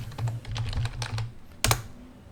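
Rapid clicking keystrokes on a computer keyboard while logging into a website, close and crisp, with a burst of quick taps followed by a single louder key press near the end.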